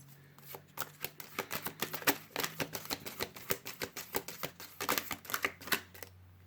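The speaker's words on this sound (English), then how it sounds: "this is hard to shuffle with my finger being hurt" Tarot cards being shuffled in quick, crisp riffling bursts, close up, with rapid flicking clicks and a faint hum underneath.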